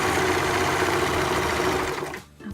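A sewing machine runs in a steady fast mechanical whir, stitching elastic onto ruffled leggings, close and continuous before stopping abruptly near the end.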